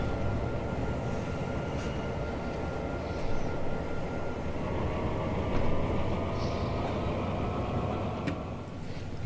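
A train engine rumbles steadily in a train simulator video game, hauling tank cars along a route. It is a continuous low drone with faint metallic whines and squeals over it, with no talking.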